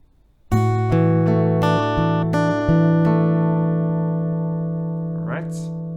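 Acoustic guitar playing the G section, a run of plucked notes and ringing chords that build over six seconds and decay slowly at the end, close and clear.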